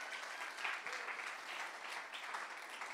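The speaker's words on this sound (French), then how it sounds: "on peut quand même encourager et applaudir la projection" A crowd at a screening during a church service claps steadily, a dense, even patter of many hands heard from some distance, sustained throughout without voices.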